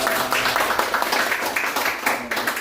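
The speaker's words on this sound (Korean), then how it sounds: "다시 한번 우리 청년부 위해서 박수 한번 해주시기 바랍니다" A church congregation applauds for its youth group, a dense, steady wash of clapping filling the room for a couple of seconds, fairly loud and close with no clear pauses.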